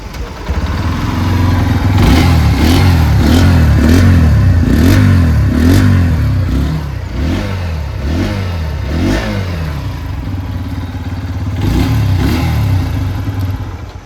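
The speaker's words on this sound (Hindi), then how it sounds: "आइए अभी सुन लेते हैं इस बाइक की एग्जॉस्ट नोट।" A 2026 Bajaj Pulsar 125 motorcycle, top split-seat TFT variant, idles and revs repeatedly, its exhaust note rising and falling in rhythmic blips before settling back to a steady, loud close-up idle.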